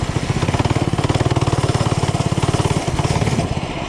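A new mini bike's small engine runs below its working revs, chugging in a fast, even pulse that stays loud and close, with one brief stumble near the end.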